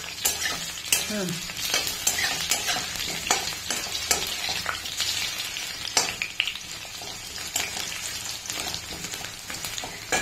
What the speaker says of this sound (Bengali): আলুগুলো না একটু লাল লাল করে ভেজে নিতে হবে।